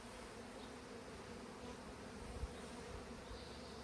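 Honey bees buzz steadily around hive frames in a soft, continuous drone that stays even throughout with no voices.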